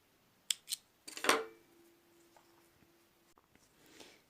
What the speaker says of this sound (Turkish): Şimdi ipimizi buradan keselim.